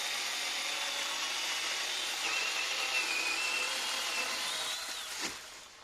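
A Metabo MS 18 LTX cordless chainsaw cuts through wood along the full length of its bar, a steady close whine holding evenly for several seconds before the motor winds down near the end.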